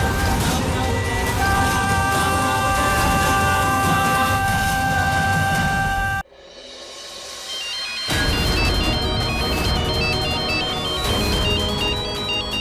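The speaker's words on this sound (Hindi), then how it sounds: "दीदी का फोन।" A mobile phone ringtone plays loudly in a Hindi TV drama scene. It is a repeating electronic melody that breaks off for about two seconds and then resumes, with music continuing beneath it.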